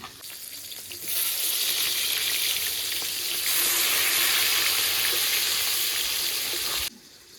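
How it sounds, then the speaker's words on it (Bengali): Fish pieces frying in hot oil and being flipped, a loud, dense, steady crackling sizzle that swells sharply after a quieter start and cuts back near the end, close to the pan. "মাছের এক সাইড ভাজা হয়ে গেছে, এবার উল্টে দিচ্ছি।"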